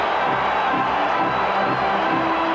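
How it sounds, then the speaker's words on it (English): Baseball stadium crowd at a Yankees vs Royals playoff game makes a steady, dense roar of many voices, continuous and fairly loud throughout. "Here comes Porter now as the crowd begins to make some noise"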